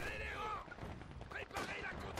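Faint, rapid bursts of battlefield gunfire and cannon shots crackle continuously in a Company of Heroes 2 match, with whistling tones mixed in.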